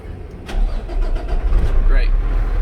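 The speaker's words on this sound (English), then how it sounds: "We'll go ahead and crank up the truck." A truck's engine cranks and catches, settling into a loud, close rumbling idle; a voice talks over the start.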